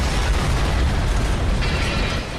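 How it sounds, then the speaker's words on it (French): An explosion strikes during a tornado hitting steel buildings in an industrial zone, a dense, loud, sustained roaring blast of broadband noise with no clear separate pops. "Et puis, il y a eu une explosion."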